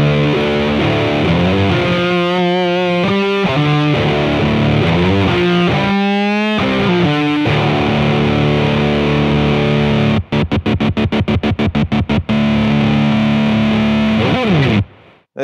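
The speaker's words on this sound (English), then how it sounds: "we run that into the Blues Driver BD2 by Boss and run the gain all the way up." Electric guitar played through a Boss Blues Driver BD-2 overdrive with the gain maxed, heavily distorted sustained chords and bends that end in a rapid string of choppy muted strums, loud and alone.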